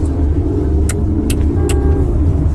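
Busy road traffic rumbles steadily and close by, with a few short, sharp high-pitched chirps rising briefly above the continuous engine drone.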